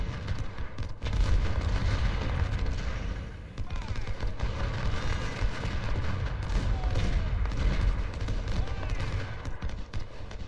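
Artillery fire rumbles in the Union campaign of the video game Ultimate General: Civil War, a dense, continuous barrage of booms and gunfire with a brief lull partway through.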